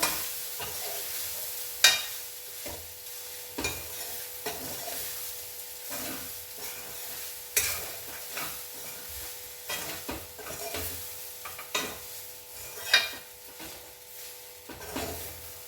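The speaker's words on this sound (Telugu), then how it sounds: "ఎంత మంచిగా కలిసేటట్టుగా కలిపేసుకోవాలి ఇలా" Amla pulihora rice being mixed in a pan: regular scraping and tossing strokes every second or two over a faint hiss, close by and moderately quiet.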